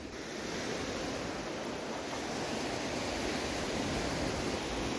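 Waves break and wash steadily onto a sea beach beside the Nakkehoved lighthouse, a dense continuous roar of surf with some wind, with no voices.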